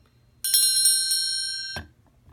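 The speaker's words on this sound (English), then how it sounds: "And this is my bell." A hand bell bought at a Renaissance Fair rings once, a bright sustained metallic tone with clear overtones that decays over about a second before being abruptly damped, close and alone in a quiet room.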